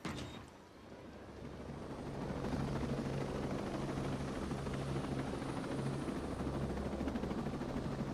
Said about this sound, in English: You'll need to get the other helicopter, remember? It's a two-seater.